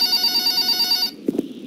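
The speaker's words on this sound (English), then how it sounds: "Phone call." A telephone rings in Minecraft 1.10.2 with a steady, loud electronic trill that holds for about a second, then cuts off and leaves a couple of soft knocks.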